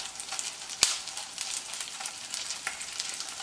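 Fish liver fries in hot oil with a constant soft sizzle and crackle, broken by an occasional sharp pop and light stirring clicks.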